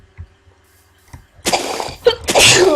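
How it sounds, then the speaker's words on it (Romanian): A person at a computer sneezes during a Minecraft session: a few soft clicks and quiet breaths, then a loud, close sneeze in two sharp bursts. "Ai. Hai că nu sunt bolnav, dar chiar nu știu de ce strănut."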